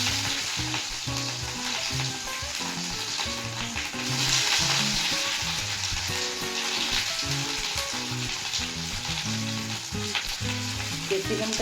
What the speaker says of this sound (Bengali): আর এখন আমি ক্যাপসিকামটা দিয়ে দেব, দিয়ে একটু নুন দিয়ে দেবো